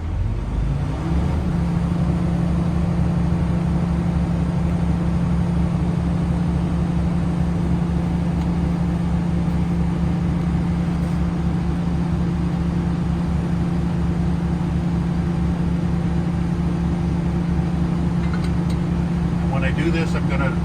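A truck's engine holds a steady, loud throttled drone with a strong low hum for about twenty seconds inside the cab, run up to charge the air brake system; a voice talks over it.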